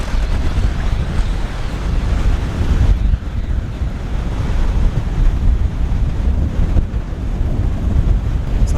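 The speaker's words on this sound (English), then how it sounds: "Weather's terrible though. Blowing a gale." A gale blows hard along a rainy coast, loud continuous rushing wind buffeting close against the microphone with surf roaring underneath, steady and unbroken with brief dips in force.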